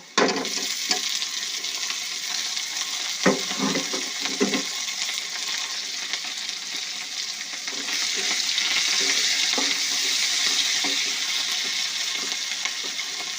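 Previously fried shrimp go into a pan of browned onion and garlic, letting out a loud, continuous close-up sizzle with intermittent stirring scrapes, and the hiss swells and stays dense throughout.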